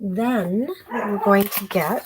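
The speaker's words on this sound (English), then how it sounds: "you can probably hear my sister's dog upstairs barking" A dog barks from upstairs in a house, a few short yelps and barks mixed in with someone talking nearby.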